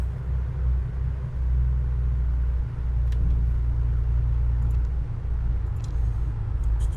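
A2A Aerostar 600 aircraft taxiing in a flight simulator game, a low, continuous engine rumble with a deep steady drone and a few faint clicks, no talk.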